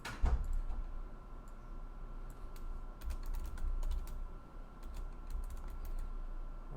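Fingers type steadily on a computer keyboard, quiet close key clicks arriving in irregular bursts through the whole stretch, with no talking.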